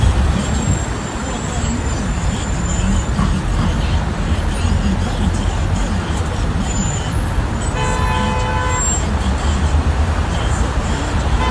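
Dense road traffic on a busy street in Kuwait, a steady broadband roar of engines with occasional horn toots, filling the whole stretch without pause.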